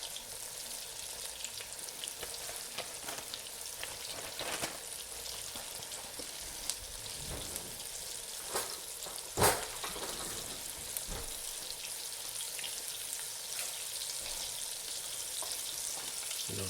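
Charcoal steak sears in a hot pan with a steady, crackling sizzle, quiet and continuous, broken by a few sharper pops and spatters.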